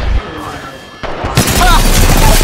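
Gunshots from the video game Apex Legends erupt in a loud fusillade with heavy booms, following a quieter stretch of game ambience, while players talk over the firing.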